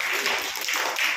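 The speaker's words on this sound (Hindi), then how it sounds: "ताली बजा दो भाई।" A brief burst of scattered hand clapping from a small group of children, close and lively, lasting about a second.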